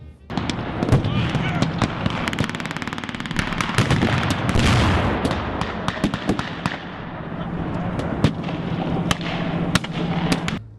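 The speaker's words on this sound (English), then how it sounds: "you can see that was a really big explosion there" Repeated sharp bangs and booms from pyrotechnics at a World War 2 battle reenactment in Bristol, one large blast among scattered pops and crackling reports, with voices talking underneath.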